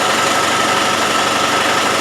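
A Land Rover 200Tdi diesel engine runs steadily with a blowing exhaust leak, a dense, continuous close-up rumble and hiss with an even idle throb and no voices.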